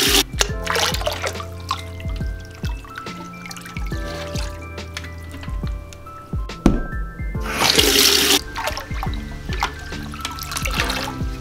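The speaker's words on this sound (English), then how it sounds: "we do need to top this off with some fresh water, so I'm gonna go ahead and fill it up." Fresh tap water runs into an aquarium to top it off, a continuous trickle and splash with occasional louder surges and small clinks, close by, with no talking.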